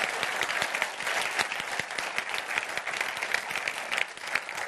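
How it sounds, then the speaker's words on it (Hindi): A crowd at a political event in India applauds steadily for the full stretch, dense continuous clapping with sharp individual claps standing out, loud and close with no talk over it. "दोनों के लिए ताली बजा रही है"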